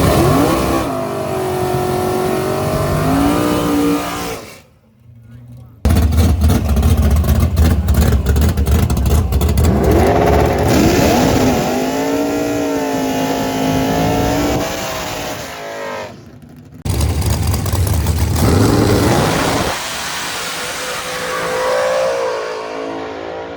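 NHRA drag race car at a divisional event roaring hard down the track, a loud sustained engine blast broken by a brief drop around the five-second mark and another near sixteen seconds, with no talk.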